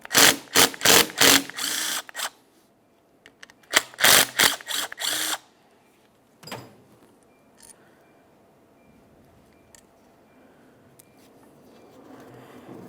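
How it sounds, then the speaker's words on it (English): A ratchet wrench with a 12 millimeter socket loosens the rear brake caliper slider bolts on a 2003-2007 Honda Accord, making two loud close runs of rapid clicking, then a few faint taps and quiet. "continue on to removing each of your 2 caliper slider bolts. Use a 12 millimeter on these."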